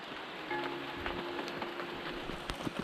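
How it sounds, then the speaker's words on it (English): Rain falls steadily in a Florida jungle, a continuous hiss of drops on foliage and surfaces with a few faint tonal sounds mixed in, with no talking. "You can see it's still raining, which has been the story for almost the entire race"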